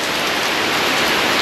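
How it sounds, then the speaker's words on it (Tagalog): Heavy rain falls steadily through the night in Daet, Camarines Norte, a dense, loud, unbroken hiss of downpour close by with no voices. "Magdamag na po ito na umuulan na sobrang lakas"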